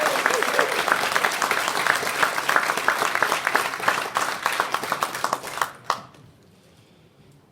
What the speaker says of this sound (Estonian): Teeme aplausi endale.